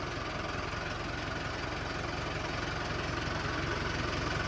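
A tractor engine idles steadily nearby, a low rumbling chug with a constant rhythmic throb and faint rattling, unbroken throughout.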